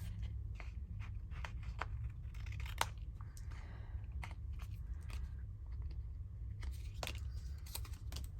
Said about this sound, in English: So we're going to snip all the corners.